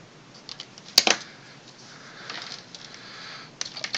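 Ladder line being cut for a J-pole antenna, one sharp snip of a cutting tool, then soft handling rustles and a few light clicks close by.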